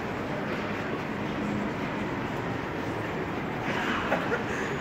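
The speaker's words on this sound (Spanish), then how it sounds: "lo que sería la estación central de trenes aquí en Glasgow, pleno centro de la ciudad" Dense, steady rumble of Glasgow Central Station in the city centre, with a continuous broad wash of machinery and crowd noise; no distinct voices stand out.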